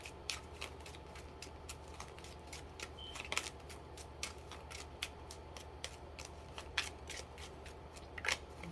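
Tarot cards being shuffled by hand, a close, rapid series of crisp riffling snaps and taps at an uneven rhythm, quiet and without talk.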